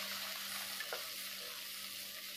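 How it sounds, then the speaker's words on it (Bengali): Capsicum and vegetables stir-fry in a pan over medium heat for a restaurant-style Chinese dish, producing a soft, continuous sizzle with light scraping as they are gently tossed. "আলতোভাবে নেড়ে চেড়ে নিচ্ছি।"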